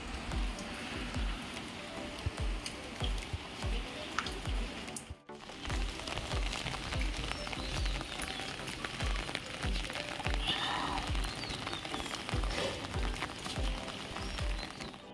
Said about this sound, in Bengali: বাইরে এত বৃষ্টি পড়ছে